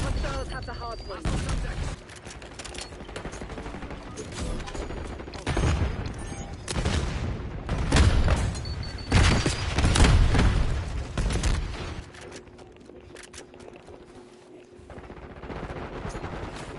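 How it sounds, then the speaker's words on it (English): A frag grenade and gunfire in Black Ops 6 during a Hardpoint match: steady bursts of shooting with heavy booming impacts, loud and continuous, with game announcer voices and players talking throughout. "Throwing frag."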